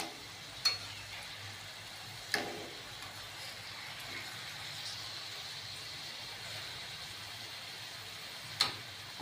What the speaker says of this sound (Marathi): आता गॅस हा लो फ्लेमवर ठेवायचा आहे व ही कलेजी आपल्याला उलटून घ्यायची